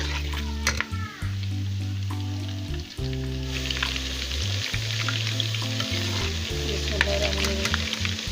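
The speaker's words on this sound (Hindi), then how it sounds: "ये फ्राई हो गया लहसुन अदरक" Garlic and ginger paste fries in a pan with diced potatoes for a white chicken pulao, giving a loud, steady sizzle throughout with stirring scrapes and clatter, no speech.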